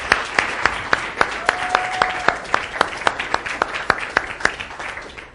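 An audience gives a round of applause at an event, with loud, evenly spaced claps beating in a steady rhythm over a softer bed of scattered clapping.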